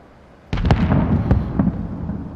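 A launched tube in Modern Warfare lands with a sudden loud burst, followed by a rumbling roar broken by several sharp pops and cracks that fade slowly.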